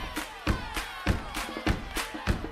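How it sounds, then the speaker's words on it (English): A group claps together in a steady rhythm, roughly three claps a second, with faint singing or voices underneath. "And let's clap together."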